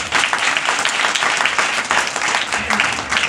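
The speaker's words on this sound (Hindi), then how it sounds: "दिलशाद वास्ते जोरदार ताली।" Audience applause at a live comedy stage show, a dense, loud burst of clapping that carries steadily from start to end with no pause.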